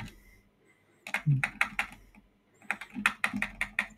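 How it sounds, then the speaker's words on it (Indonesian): Computer keys, the arrow keys, are pressed in quick clicky bursts, two clusters of several taps each with a short pause between, close and fairly quiet with no talking. "bisa kalian menggunakan arrow tab ataupun tanda panah di keyboard kita"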